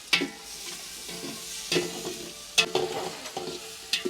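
Onion and tomato frying in a pan over a wood-fired chulha, stirred in a few distinct scraping strokes over a soft, steady sizzle, close and fairly quiet, with no talking.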